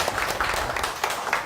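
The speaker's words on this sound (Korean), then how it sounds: "박수로 맞이할게요." A lecture hall audience at a special academic talk gives a short burst of applause, a dense, steady patter of many hands clapping at moderate volume.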